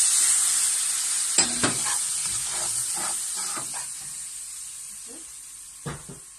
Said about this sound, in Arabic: يطيب على النار يتقلي حتى لين يتبدل لونه